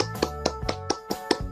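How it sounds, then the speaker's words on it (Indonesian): Several sharp hand claps or taps from an online class, about six evenly spaced beats close up, with no voices over them. "Tepuk tangan untuk kalian semua"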